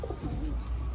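Racing pigeon cooing close by in a loft, a short soft low coo over steady background noise.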